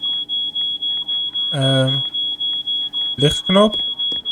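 An alarm in a video game escape room beeps in a fast, steady, piercing repeating pattern throughout, loud and close, while people talk over it.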